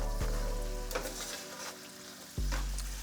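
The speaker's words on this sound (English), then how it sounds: "simmer and saute those for another 4 to 5 minutes or until soft" Vegetables sauteing in a pan for a chicken cacciatore, giving a steady close sizzle with a few louder bursts of stirring and spattering and no talking.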